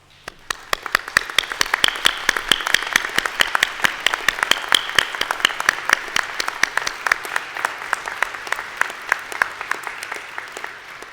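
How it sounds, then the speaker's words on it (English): Audience at a college honors convocation applauds as honor society students in veterinary science stand, a steady burst of close, crisp clapping lasting about eleven seconds with no talk over it. "Will these students please stand for a round of applause?"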